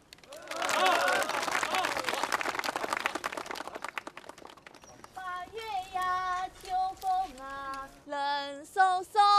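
Audience applause and cheering in a wartime drama scene, a dense burst of clapping for the first few seconds that fades out as a voice starts singing a folk tune.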